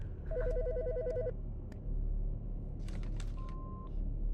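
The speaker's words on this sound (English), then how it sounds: "The fucking phone." A telephone rings in the video game Autopsy Simulator: a trilling electronic ring that repeats rapidly for about a second, followed by scattered clicks and a short steady beep over a constant low rumble.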